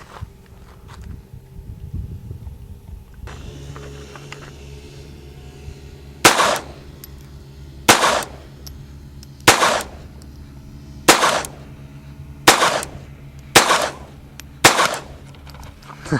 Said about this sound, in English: We're going to shoot the same ammo, which is the Blazer 40 grain lead, and it's just the round nose.